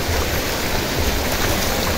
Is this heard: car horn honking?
no